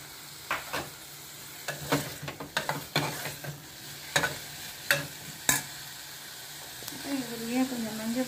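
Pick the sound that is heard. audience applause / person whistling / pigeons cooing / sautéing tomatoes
sautéing tomatoes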